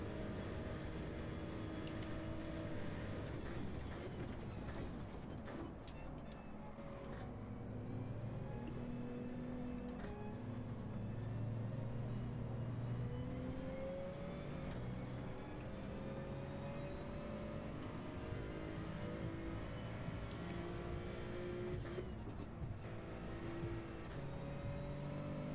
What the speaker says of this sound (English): This BMW is going fast.